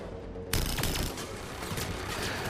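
Rapid submachine gun fire in the Mass Effect 3 video game erupts abruptly after a brief quiet moment and continues as a dense, loud, sustained burst of overlapping shots with no talking.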